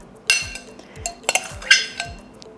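A spoon scraping and clinking against a bowl while butter is worked into a rum-soaked Trini black fruit cake batter, several light knocks and scrapes, close and fairly quiet.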